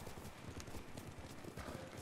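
Horse hooves clip-clop in a steady rhythm while riding in Ghost of Tsushima, soft and even throughout with quiet game ambience beneath.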